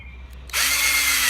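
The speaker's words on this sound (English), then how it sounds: "this is the drill that the battery keeps dying because I'm an idiot" A cordless battery drill, its battery repeatedly dying, whirs up suddenly and runs steadily at close range, driving screws while a shed is built, after a moment of quiet room noise.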